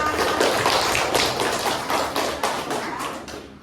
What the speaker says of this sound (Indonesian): beri tepuk tangan untuk kelompoknya Vera